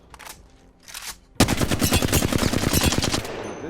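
Hip-fire gunshots in the video game Apex Legends: a couple of faint bursts, then a loud, rapid string of automatic fire lasting a couple of seconds.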